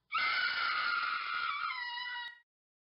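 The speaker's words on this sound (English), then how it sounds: "I did hear a scream." A single drawn-out, high-pitched scream sound effect from a tabletop game session, loud and alone for about two seconds before cutting off abruptly.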